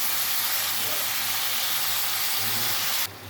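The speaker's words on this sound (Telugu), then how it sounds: "వంకాయ ముక్కలు కూడా వేసేసుకుందాం." Brinjal pieces tossed into a hot pan of oil give a loud, steady sizzling hiss that fills the whole stretch close by, dropping away sharply at the very end.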